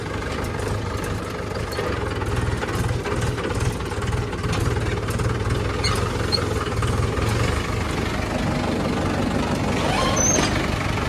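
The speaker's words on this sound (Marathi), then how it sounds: "आता ट्रॅक्टर जो आहे तर तो सावलीला लावूयात" A tractor engine idles with a steady low rumble and throb, continuous and fairly loud throughout, with no talking.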